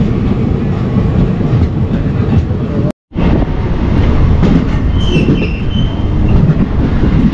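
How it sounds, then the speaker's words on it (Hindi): The Ambikapur Jabalpur Rewa Express passenger train runs with a steady loud rumble and clickety-clack of wheels on rails, briefly cut out midway, with faint squeals and no talk. "अच्छा भाई ये अंबिकापुर जबलपुर रीवा एक्सप्रेस है।"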